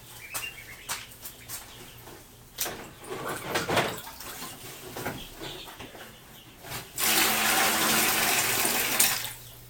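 Water poured out of containers at a duck pond: splashes and sloshing arrive in bursts among scattered clunks, then build into a sustained, loud rushing pour near the end.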